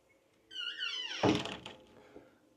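A closet door in a new-build house squeaks as it slides, then lands with a solid thunk, followed by a softer knock. The sounds are close and clear in a quiet room.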